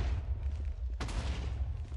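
Cannon fire in a competitive multiplayer video game match: a steady low rumble with a sharp burst near the midpoint, followed by a sustained noisy crash and boom.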